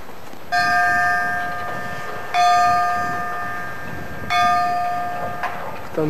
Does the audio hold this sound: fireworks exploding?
no